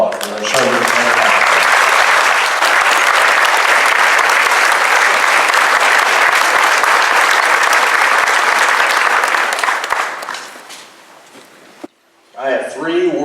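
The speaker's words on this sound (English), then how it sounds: "Please give Major General Rex Driggers and his wife Nelda a rousing round of applause for their service." An audience at a veterans appreciation event gives a sustained, loud, rousing round of applause for a major general and his wife, holding strong for about ten seconds before dying away, followed by a brief spoken voice.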